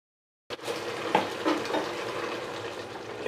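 Biryani masala sizzling in a pot as it is stirred, a continuous close frying hiss starting abruptly, with occasional utensil scrapes and no talking.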